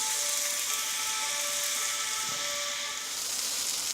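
Chicken or turkey pieces with vegetables sizzling on a hot plancha, a steady broad hiss and crackle throughout, close and fairly loud with no talk.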